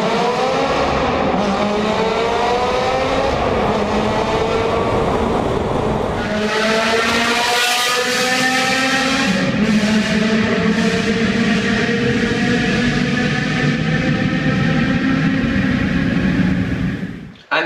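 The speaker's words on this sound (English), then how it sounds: "And then there's the piece de la resistance, the sound." Ferrari 360 Challenge Stradale V8 engine, loud and close, revving through rising gear pulls with a brief dip at a shift before climbing again, a hard-edged howl sustained for most of the run.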